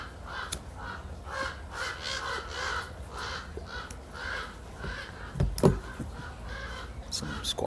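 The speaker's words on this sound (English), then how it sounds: "birds go flying by." Crows cawing outdoors in a few scattered, moderately near calls, with quieter background sounds and a louder burst near the end.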